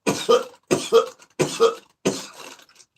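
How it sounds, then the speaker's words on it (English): A person with a COVID cough coughs four times in a row, each cough a close, harsh double burst separated by short pauses. "Got the COVID cough."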